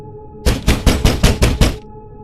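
Knocking on a door: seven evenly spaced, loud, sharp raps in quick succession against a quiet background, with no talking.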